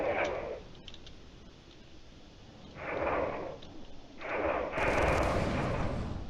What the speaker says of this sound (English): There's a lot of cannon fire.